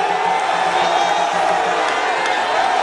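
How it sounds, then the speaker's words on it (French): A huge crowd cheering the arriving President Kabila: a loud, continuous roar of many voices with whoops and shouts, steady throughout with no break. "le président Kabila est accueilli triomphalement par une foule immense"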